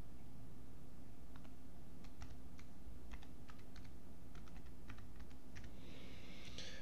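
Someone types a file name on a computer keyboard in Windows 11, a quiet run of crisp individual keystrokes in an irregular rhythm over a faint hum, ending in a brief louder burst.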